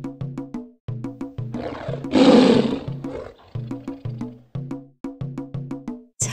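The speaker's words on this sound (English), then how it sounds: "Tiger." A tiger gives one loud, rough roar lasting about a second, rising over a bouncy plucked-note music track that drops out briefly during the roar.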